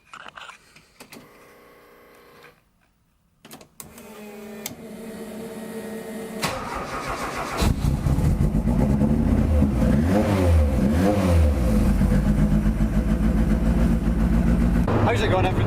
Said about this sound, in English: So we'll try again, try for another fire up, and I'm pretty sure it will go this time.